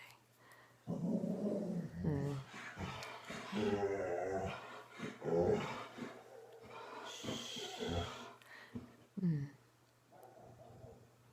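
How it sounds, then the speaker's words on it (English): A pet dog growls, snorts and lets out gruff barks close by in a quiet indoor room, the sounds coming in uneven bursts with short pauses between them. "My dog had to bark at something for a minute"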